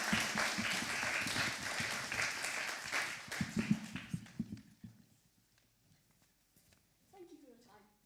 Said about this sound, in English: let's give them both a round of applause to share this brand new work.